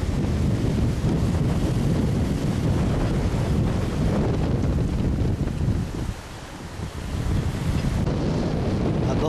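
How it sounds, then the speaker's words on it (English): Strong wind roars and buffets a microphone on the waterfront after Hurricane Irene, with storm damage and sailboats nearby; a dense, continuous rumble that eases briefly around the sixth second before gusting back up, with no talking. "Very windy out too."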